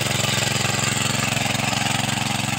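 A small rotary tiller's engine running hard, a loud steady pulsing chug close by with a fast regular beat and no talk over it.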